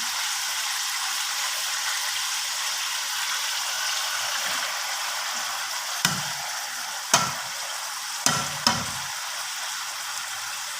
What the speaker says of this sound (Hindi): साथ ही हम अब इसमें कटे प्याज डालते हैं।